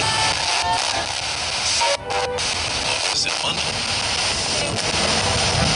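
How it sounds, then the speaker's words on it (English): A continuous roar of an airplane engine passing overhead at an old church and cemetery, broad and steady, with faint voices mixed underneath. "I've got a plane going"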